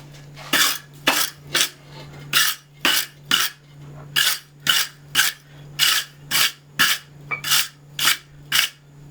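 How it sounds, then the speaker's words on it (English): Stiff brush scrubbed across a hand-forged iron andiron in a smithy, a run of sharp scratchy strokes in short, fairly even bursts, close and crisp over a constant low hum. "Let's brush it."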